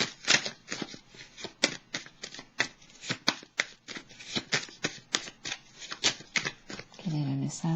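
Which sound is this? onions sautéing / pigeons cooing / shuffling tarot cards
shuffling tarot cards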